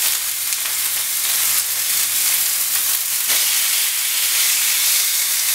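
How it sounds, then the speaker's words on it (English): Rainbow trout sizzling on a grill just after being flipped, a steady bright hiss and crackle of frying that runs unbroken throughout, close and moderately loud. "Get a great sizzle."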